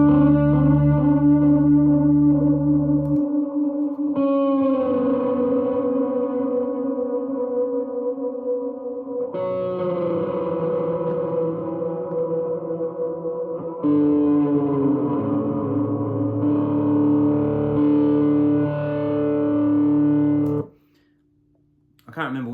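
Slide guitar on a Supro Ozark fed through a Memory Man delay and reverb: sustained, gliding notes with heavy echo trails and a wash of ambience, loud and continuous, briefly cutting out near the end.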